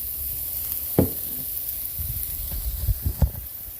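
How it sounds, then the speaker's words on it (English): Vegetables sauteing in a generous amount of infused olive oil, a steady close sizzle with occasional knocks and scrapes of a stirring utensil against the pan, no voices. "And you'll get that sauteing."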